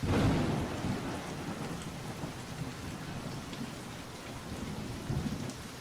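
Steady rain pours down with a dense, hissing wash, a low rumble swelling at the start before settling into a constant downpour.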